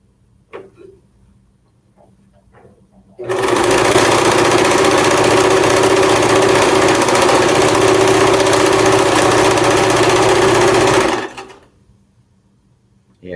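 A sewing machine stitches fabric for a flag, starting abruptly after quiet handling sounds and running loud and steady for about eight seconds before stopping.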